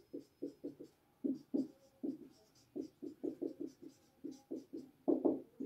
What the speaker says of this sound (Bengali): আমি ইমিনটা না একটু ওপরের দিকে লিখে দিচ্ছি